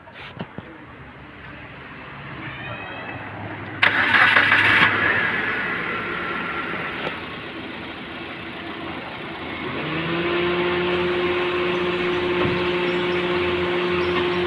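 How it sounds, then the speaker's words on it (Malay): A car engine cranks in a short, loud burst, catches, and then settles into a steady low idle hum that carries on to the end, heard during an air-conditioning check. "Jadi kita perlu start engine dia dulu."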